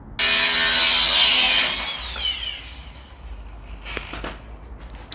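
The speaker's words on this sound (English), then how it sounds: "I might just lop that off with the grinder." Angle grinder cutting off a too-long stud on a Dakar M3, a loud close high whine lasting about two seconds that then winds down, followed by faint clinks.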